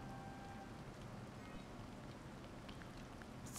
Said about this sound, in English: Rainy breeze day.